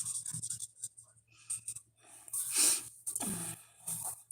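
Coloring a hand on a handmade card with a marker or pencil gives soft scratchy strokes in short uneven bursts, close and fairly faint, with no talk over them.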